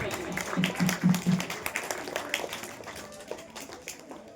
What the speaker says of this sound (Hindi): तालियां हो जाए इस बच्चे के लिए, तालियां।